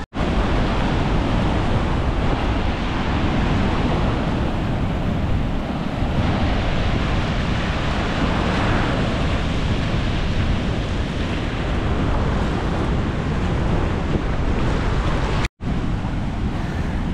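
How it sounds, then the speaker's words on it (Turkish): Ban Gioc waterfall roaring close by, a loud, dense and unbroken rush of falling water, with wind buffeting the microphone and a brief cut near the end. "Evet şelalecim, sana ulaşmak için bayağı bir uğraştım."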